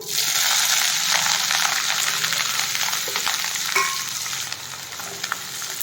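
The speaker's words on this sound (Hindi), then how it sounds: "अब हम कढ़ाई में डाल रहे हैं हरी मिर्च" Green chilies frying in hot oil in a kadai with mustard seeds, cumin and asafoetida, a steady close, loud sizzle with scattered pops and crackles throughout, no voices.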